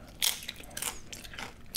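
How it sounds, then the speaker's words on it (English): A crunchy Taco Bell taco shell being bitten into, producing a few sharp, close crackling crunches and chewing sounds in quick succession, quiet and without talking. "Crunchy taco, don't feel ashamed."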